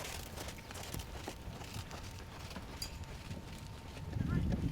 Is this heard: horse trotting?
yes